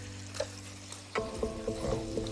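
Onions frying in a casserole pot where chicken legs were cooked, a steady low sizzle under a background hum, with a few light utensil clinks partway through.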